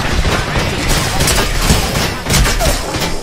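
Video game gunfire in a battle royale shooter such as Apex, PUBG or Warzone, rapid crackling shots and thuds packed densely together at high volume throughout, with a brief dip near the middle and no speech.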